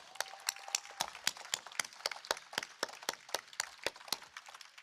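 Scattered audience applause for the Model Mania champions at a live event, heard as sparse, distinct claps from a modest crowd, fairly quiet and slightly distant, with no talking over them.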